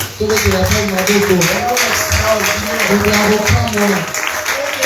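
A live audience applauds a man named Paul at a talk, giving steady, dense clapping that fills the whole stretch at close range, with voices mixed into the crowd noise.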